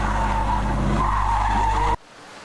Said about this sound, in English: If the car moves with a velocity greater than the limiting value, it skids away from the center.